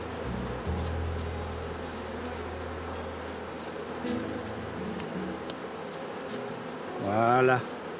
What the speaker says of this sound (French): Le balai à abeille permet de brosser délicatement les abeilles du cadre.